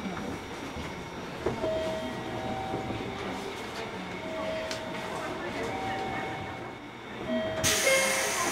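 A JR Kyushu 103 series 1500 subseries train, set E13, runs a Chikuhi Line local service toward Karatsu with its loud MT55 traction motors. Heard from on board, a continuous rolling rumble carries steady whining motor tones that rise and fall.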